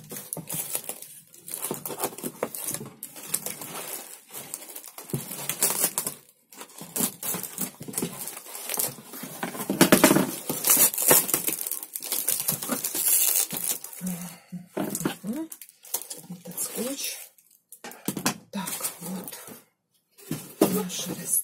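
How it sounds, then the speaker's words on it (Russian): A cardboard postal box is pried open and its packaging handled, producing loud, close bursts of crinkling, rustling and tearing in irregular clumps with brief pauses between them. "как же эти плохо открываются, эти коробки почтовые"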